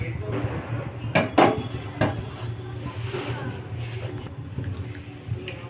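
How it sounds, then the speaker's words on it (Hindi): A spoon spreads oil around a non-stick pan, making a few sharp metallic clinks and light scrapes against a low steady background hum. "ऐसे तेल को अच्छी तरह से फैला देंगे चारों तरफ, तेल चारों तरफ अच्छे से फैल जाए।"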